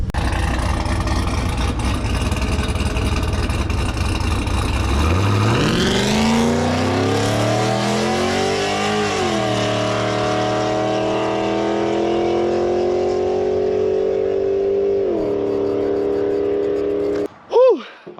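A drag car fitted with Texas Speed heads and cam idles with a loping rumble, then launches on hot street tires and roars through rising, loud revs on a track pass before cutting off near the end.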